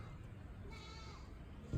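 A goat out in rural Jamaica lets out a single brief bleat, moderately loud and fairly close, over faint background noise.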